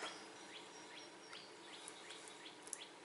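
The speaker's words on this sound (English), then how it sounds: "Freaking birds." Small birds chirp repeatedly outdoors in short, bright calls spaced through the moment, fairly close and lively over a steady hiss of background ambience.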